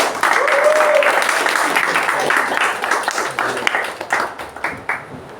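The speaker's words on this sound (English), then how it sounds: "With a thunderous round of applause, please welcome the Toastmaster of the day, Toastmaster Siddharth Chitloth." Round of applause at a Toastmasters club meeting, a dense burst of clapping from the audience that starts loud, then thins into scattered individual claps as it fades out.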